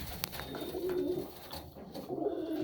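White homing pigeons cooing inside a loft, soft repeated throaty coos close to the microphone with low rustling between calls.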